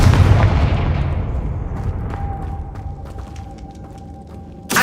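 A Confringo fire spell in Hogwarts Legacy goes off with a heavy booming blast that rolls away into a long fading tail, followed by a faint ringing tone and a sharp burst right at the end.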